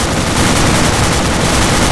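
Dense, continuous automatic gunfire in the military shooter game Arma 2, a loud, close roar of overlapping rounds and bursts filling the whole stretch with no break.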